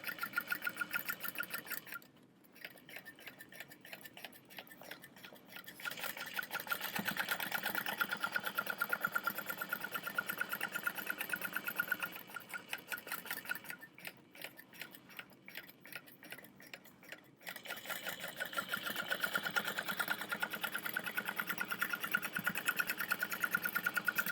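A sewing machine stitches a seam on a structured convertible bag in fast mechanical bursts of rapid ticking, pausing briefly twice before running again, close and fairly quiet, with no talking.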